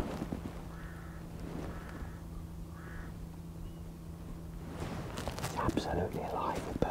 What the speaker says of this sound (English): And obviously ravens there.